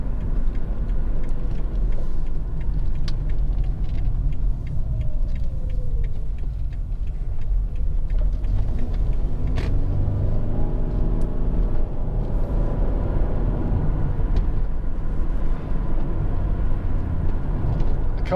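A Lexus RX 400h 3.3 SE hybrid with a CVT gearbox drives along, heard from inside as a steady, moderate cabin rumble of road and drivetrain noise, with occasional small ticks and no one speaking.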